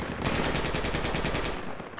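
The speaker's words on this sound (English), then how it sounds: "Stay away from that 50 cal, it just went dead-dead on me." Sustained burst of .50 caliber machine gun fire in a downtown shooter video game, loud and rapid with a steady rattling rhythm for most of two seconds, then easing off near the end.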